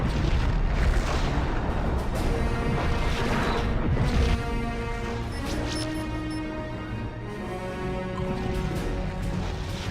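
Klingon ship blowing apart in the space combat game Star Trek Legacy, a loud rumbling boom with crashing debris for the first four seconds, then a sustained lower roar and hum of battle continuing behind it.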